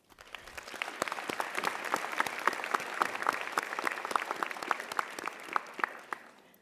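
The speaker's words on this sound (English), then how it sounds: "for that, we give you a round of applause." Sustained applause from a graduation ceremony audience, a dense, even patter of many hands clapping that holds steady throughout with a few sharper individual claps standing out.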